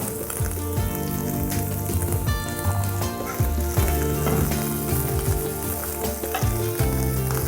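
Fresh mint leaves sauté in a pan for pudina thambli, a loud, close, steady crackling sizzle with bursts of spitting and scraping stir strokes throughout, no voices.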